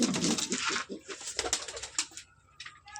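Pigeons coo close by in a short burst of soft, throaty calls, mixed with faint rustling and the fluttering of feathers.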